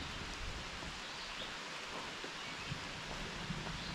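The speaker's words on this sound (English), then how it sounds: "it's certainly raining now. It's going to just get harder." Rain falls steadily in a valley outdoors, a faint, even hiss of drops with no voices.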